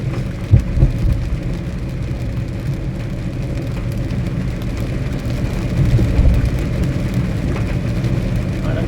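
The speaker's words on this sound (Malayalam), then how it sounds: "നല്ല മഴ ഇനിയിപ്പോൾ വാവ് വരെ ഇങ്ങനത്തെ അവസ്ഥയായിരിക്കും എന്നാണ് തോന്നുന്നത്" Heavy rain pours during a drive, a steady low rumble of rain and road noise inside the moving vehicle, with a couple of brief thuds early and a swell near the end.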